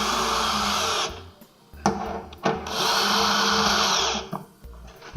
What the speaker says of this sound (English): Then we'll use speed driver with a 5/16.